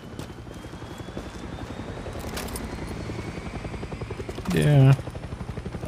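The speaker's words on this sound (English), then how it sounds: "Helicopter." Helicopter flying overhead in Far Cry 6, its rotor giving a steady pulsing thump that holds throughout, while players talk briefly over it and a short louder burst cuts in near the end.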